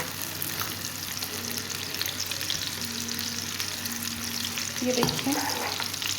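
Chopped onions fry and sizzle in a little oil in a pan for brinjal bharta, a steady close crackle with a brief stirring clatter near the end, while someone speaks briefly over it.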